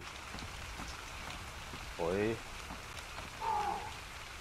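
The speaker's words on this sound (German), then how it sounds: "Hier regnet's rein." Rain in ARK: Survival Evolved makes a soft, continuous hiss and patter throughout, with a short spoken voice and a brief tonal call rising over it.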